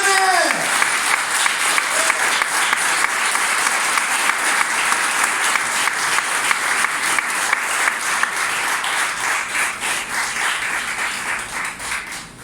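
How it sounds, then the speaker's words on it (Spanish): A church congregation at a Spanish-language worship service claps energetically, the applause steady and strongly rhythmic as if in time, loud and continuous for the whole stretch before easing slightly at the end. "iglesia, aplauda al Rey que me sostiene"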